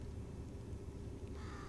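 In Portal 2, a bird caws once near the end, a short harsh call over a dense, steady rumbling game ambience.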